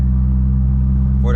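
A built Mitsubishi Lancer Evo driving, a loud, close, steady low engine drone with a rumbling hum, and a voice starting to speak at the very end.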